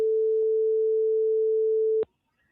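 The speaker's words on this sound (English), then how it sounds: "There's the beep." A steady electronic phone beep holds one pitch for about two seconds during a call, loud and alone, then cuts off abruptly with a click into near silence.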